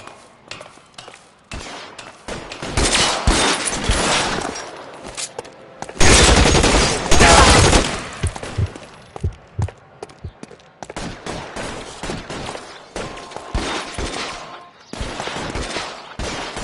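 Gunfire in the video game L.A. Noire: dense bursts of shots and rapid volleys rise and fall across the scene, loudest in the middle, with brief pauses between exchanges.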